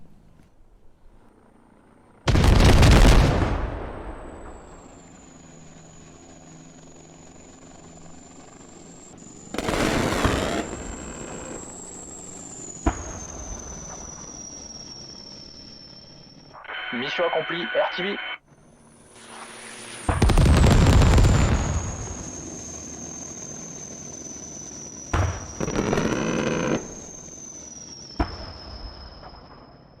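A Tiger attack helicopter strikes in the military game Squad: loud booming explosions burst repeatedly between long high turbine whines, with a short radio-style voice line in between.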